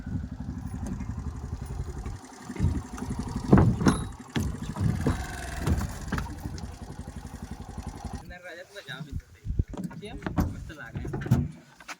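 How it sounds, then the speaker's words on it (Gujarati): A motorboat engine chugs steadily on the Mahisagar river near Balasinor, a low continuous throb under frequent nearby talk, briefly dropping out near the end. "હોડીનું એન્જિન"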